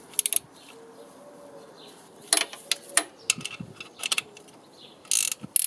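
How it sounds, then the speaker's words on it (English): Mechanical clicks and ratcheting from tightening the pinch bolt on a BMW R1150 GS alternator, arriving in short irregular bursts with quiet pauses between, close by. "Tighten off the pinch bolt on the far side."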